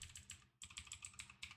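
Rapid typing on a computer keyboard, close and fairly quiet, in two bursts of quick clicking keystrokes separated by a brief pause, with no voices.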